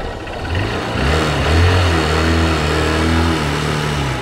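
A Hero Hunk motorcycle engine runs just after starting, a loud close steady drone with a slight rise in revs partway through, alone without speech.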